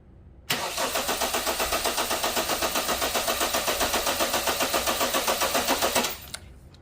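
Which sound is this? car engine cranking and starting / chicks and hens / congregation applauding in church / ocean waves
car engine cranking and starting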